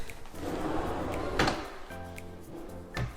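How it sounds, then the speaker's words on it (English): Soft-close drawers in a newly built house sliding shut, a few muffled thuds and gentle slides at close range, with faint room noise around them. "definitely here for these soft close drawers"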